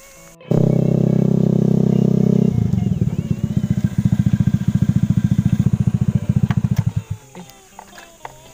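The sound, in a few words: motorcycle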